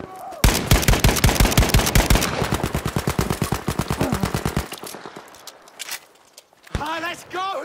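Rapid automatic gunfire bursts loudly and close in the video game Battlefield 5, a long dense stream of shots that fades, then a voice speaks near the end.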